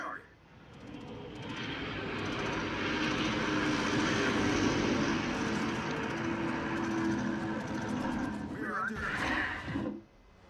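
Sustained droning roar of carrier aircraft engines in the World of Warships naval game, swelling over several seconds and cutting off abruptly near the end, with a voice talking over it.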